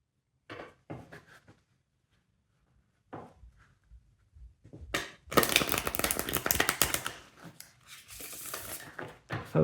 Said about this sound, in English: For some reason I feel like shuffling it one more time.